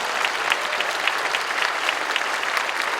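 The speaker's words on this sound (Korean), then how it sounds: "여러분 환영의 박수 해주시면 고맙겠습니다." Audience applause at a church prayer gathering honoring Korean War veterans, steady dense clapping from a large crowd sustained evenly throughout.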